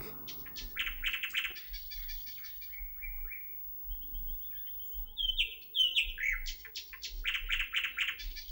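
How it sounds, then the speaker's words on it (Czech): Nightingale song in a fairy-tale film scene: varied bright chirps, trills and whistled phrases in bursts, fairly near and clear over a faint low background hum, with no talking. "To je opravdový slavík."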